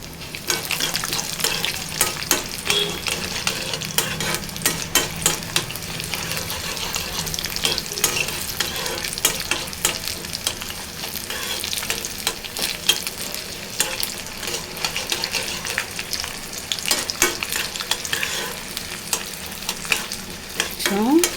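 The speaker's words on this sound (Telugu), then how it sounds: "5-6 ఎల్లిపాయ రెబ్బలు వేస్తున్నానండి" Five or six garlic cloves fry in hot oil for a Telugu tempering, giving a steady, close sizzle with frequent scraping and clinking as the pan is stirred throughout.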